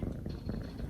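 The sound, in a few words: kittens purring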